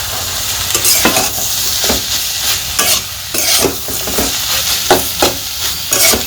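Fried fish being stirred into water lily stems frying in a pan in a village kitchen, with loud continuous sizzling broken by repeated scraping stirs of a spatula at a steady rhythm, no voices.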